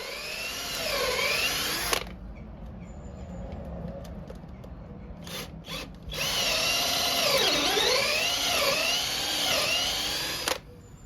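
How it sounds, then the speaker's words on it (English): Power drill boring through a wooden garden sleeper with a 10mm bit, two loud sustained whining runs with rising and falling pitch, separated by a short pause with brief bursts, close and alone. "Then I can drill the rest of the way through using a 10mm drill bit."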